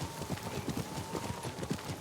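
Horse hooves clip-clop at a steady trotting rhythm in Ghost of Tsushima, several animals close together on open ground, with wind and ambient noise beneath.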